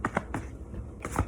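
A card is drawn from a tarot deck with a few quick, crisp paper flicks and rustles close by, a short pause between two brief bursts.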